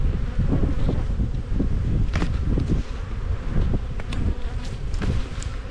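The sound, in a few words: honey bees buzzing around a hive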